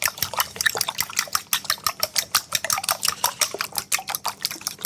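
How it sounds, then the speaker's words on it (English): A whisk or fork beats frittata egg mixture in a bowl with quick, steady clinking and sloshing strokes, close and loud, with no talk. "now we need to just give this a good mix up until it's well combined"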